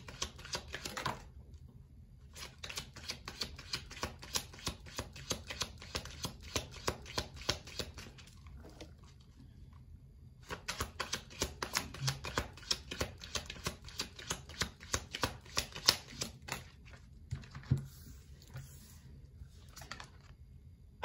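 Tarot cards are shuffled in long bursts of rapid, crisp riffling clicks, close and fairly quiet, with short pauses between runs and no talking.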